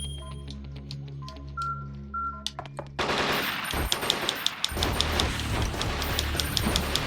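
Enemy gunfire in a video game erupts after a quieter stretch of beeping game tones, becoming a dense, continuous stream of sharp shots that carries on loudly to the end.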